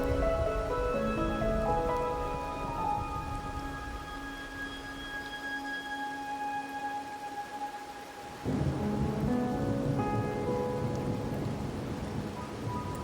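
Steady rain falling in the video game Wuthering Waves, a constant hiss with rumbling low undertones and layered tonal music that shifts abruptly partway through, no talk.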